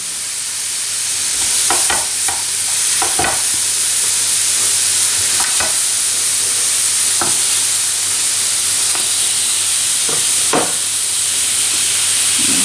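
Vegetables sear on a dry, unoiled hot plate with a steady close sizzle and hiss, broken by occasional sharper crackles and pops as pieces are pressed down.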